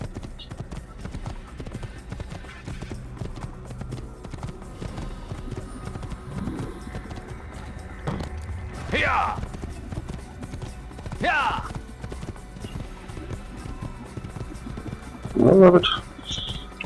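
Horse hooves clip-clopping as a rider travels in the video game Assassin's Creed, a continuous even patter of hoofbeats under someone talking, with a few brief louder vocal bursts scattered through.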